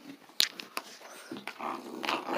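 Eight-week-old American bandog puppies make low growls and whimpers with a few sharp yips, close and fairly quiet, in an irregular run of small sounds.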